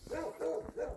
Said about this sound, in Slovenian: Lahko bi enkrat en pes se ne drl, ko gre mimo, ne?